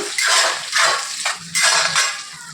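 Chopped tomatoes stirred into fried onions in a pan, making about four close, bright scraping strokes in a steady rhythm with short pauses between them.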